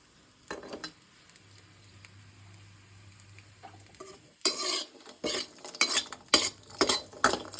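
Moong dal fries in a pan for laddoos, starting with faint sizzling and a few light taps, then turning into brisk, close scraping stirs of a spoon against the pan.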